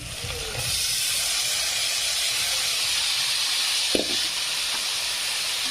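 Cabbage dropped into a hot pan with red chilli powder and spices, giving a steady loud sizzling hiss that runs throughout, with a brief clatter near the end.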